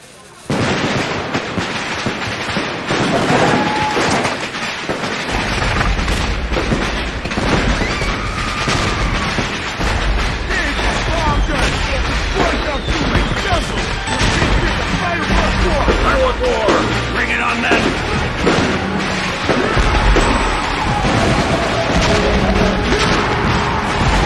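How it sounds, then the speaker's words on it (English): Fourth of July fireworks going off in a dense, nonstop barrage of booms, bangs and crackles that keeps going throughout, loud and close, with voices heard faintly under the noise. "It is 4th of July and I have brought so many fireworks."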